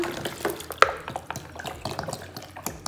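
Still water from a whole chilled bottle being poured into a cold Russian okroshka soup, with soft liquid splashing and dripping and a sharp clink near the start, no talk over it.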